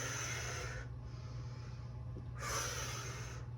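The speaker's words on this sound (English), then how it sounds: "I'm going to inhale, exhale on this movement." Exercise breathing during a strength workout: two airy, hissing breaths, one at the start and another after a pause, heard close and fairly quiet over a low steady hum, with no talk.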